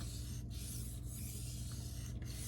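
A steel knife is stroked across a Naniwa 1000 grit whetstone during freehand sharpening, making a steady, close wet rasping scrape with a few brief breaks between strokes and no talking.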